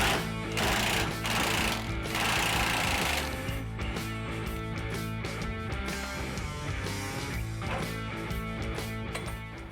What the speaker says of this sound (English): undo the bolts holding the leaf spring to the frame